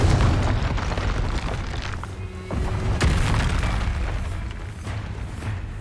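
Confringo explosive spell going off in the Hogwarts Legacy video game, a heavy rumbling boom that fills several seconds, with sharper bursts cracking through near the midpoint.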